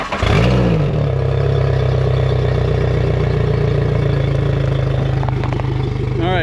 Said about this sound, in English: And let's fire this puppy up.